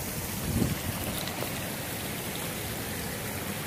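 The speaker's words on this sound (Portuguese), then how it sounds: "Tô na cachoeira já." A waterfall heard from its lower trail, a steady broadband rush of falling water, continuous and fairly distant, with no talking.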